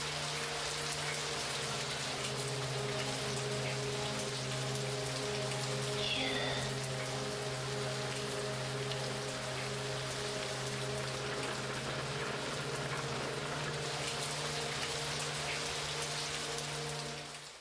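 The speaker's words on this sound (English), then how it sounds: "So there's a nice sound coming from outside. It's the rain, I believe." Rain falling outside in Fatal Frame III, a steady soft hiss of drops under a low sustained hum, constant and unbroken throughout.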